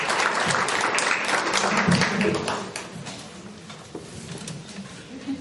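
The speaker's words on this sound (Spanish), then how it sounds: "vamos a recibirlo con un cariñoso aplauso." A church congregation claps warmly to welcome a visiting pastor, the applause strong at first and then thinning and fading over the last few seconds, with some scattered taps and faint voices underneath.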